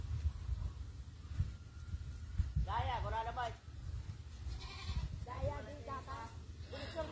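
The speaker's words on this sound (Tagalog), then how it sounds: "May hila-hila siyang kambing." A goat being led on a rope bleats several times in wavering, nasal cries, moderately close over a low outdoor rumble, with people talking nearby.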